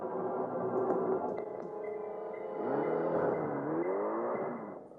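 A car engine revs nearby, its whine climbing and dipping in pitch as it accelerates, loud and steady throughout with no voices.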